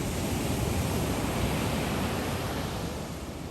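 Surf breaks on a wide, treeless South Shore beach on Kauai before sunset, a steady, full roar of waves that swells slightly and eases toward the end, heard alone without voices.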